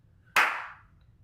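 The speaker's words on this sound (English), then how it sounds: "I think it's great to clap with the kids on beat 4, encourage them to clap with you." One crisp hand clap, sharp and close, ringing briefly into a quiet room, the kind placed on the beat during a children's worship song.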